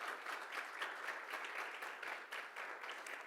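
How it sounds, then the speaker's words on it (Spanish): An audience at a Mexican organizational-change report launch conference claps steadily for about three seconds, a fairly quiet, even wash of applause with no speech over it. "Y ahora quiero pedirles un aplauso para Isabel Martínez, que es Head of People"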